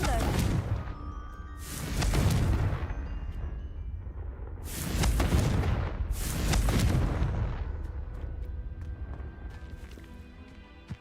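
Confringo blasting spell in a Harry Potter video game, three deep booming explosions that swell and roll off, spaced a few seconds apart, loud over a rumbling background.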